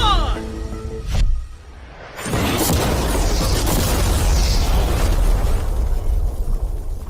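A normal car blown up with mannequin passengers inside: a sudden loud blast, then a long roaring fire and debris rumble that keeps going for several seconds. Faint voices come before the explosion.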